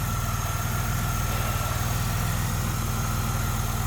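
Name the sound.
2000 Firebird V6 engine idling, Flowmaster exhaust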